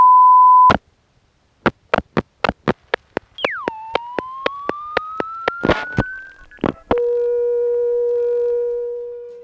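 A telephone company test line plays over a phone line: a steady tone, then a long run of evenly spaced clicks with a rising sweep tone, then a lower steady tone to the end. The sound is clean and there is no talk.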